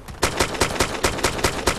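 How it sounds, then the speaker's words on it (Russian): Gunfire in the video game DayZ: a rapid, evenly spaced burst of about eight loud shots cracking in quick rhythm, close and sharp, with no talk over them. "Я слышу выстрелы, вы?"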